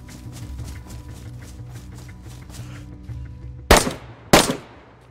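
Two sharp, loud gunshots crack a half-second apart in the DayZ survival game, following a stretch of quieter rhythmic footsteps and movement.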